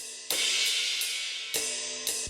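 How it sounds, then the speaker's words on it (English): Live-recorded crash cymbals from a studio session, three loud, bright crashes that each wash out with a long shimmering decay, heard alone. "and the crashes"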